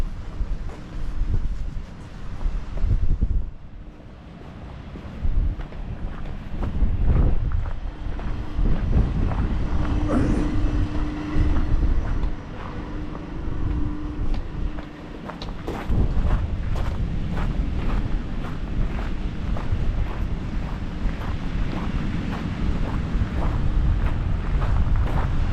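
Steady gusty wind buffets the microphone throughout on an English beach, a low continuous rumble with occasional stronger blasts, heard outdoors with no one talking.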